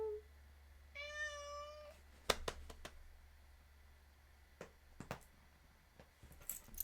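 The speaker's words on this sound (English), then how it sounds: "What a tiny little meow." A small cat gives one thin, high meow, followed by a few soft clicks and taps in a quiet room.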